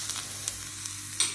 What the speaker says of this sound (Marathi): दोन मिनटं चांगली भाज छान त्याची खरपूस भाजून घ्यायची